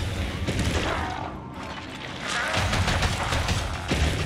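A rapid-firing gun in Tower of Fantasy sounds as a run of fast, crackling bursts, loud and close, with a short lull midway and mechanical clatter, under faint game noise.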